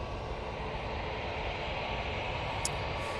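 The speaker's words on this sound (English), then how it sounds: "got the Etihad A350 1000 overhead" An Etihad Airbus A350-1000 airliner passes overhead at Manchester Airport, a continuous, even jet roar filling the whole stretch with a brief high chirp near the end.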